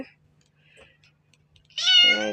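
A limping cat gives a single clear meow near the end after quiet, close and loud.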